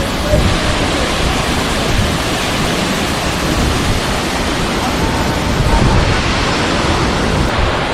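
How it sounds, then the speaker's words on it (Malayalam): A waterfall at a hidden spot near Kottayam in Kerala rushes in a dense, constant roar of falling water, loud and close throughout, with no pause or change. "വെള്ളം നന്നായിട്ട് തന്നെ അത്യാവശ്യം പോകുന്നുണ്ട് കേട്ടോ"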